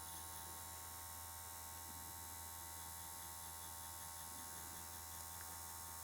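Rotary tattoo machine running slowly, a faint steady electric hum and buzz throughout with no talking.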